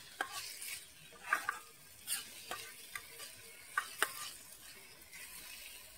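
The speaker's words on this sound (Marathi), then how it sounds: "चांगला टॅमॅटो आता शिजून घेतला" Tomatoes cook in a pan for paneer bhurji with a soft, quiet sizzle. A spatula stirs and scrapes in irregular clicks throughout, and no one talks.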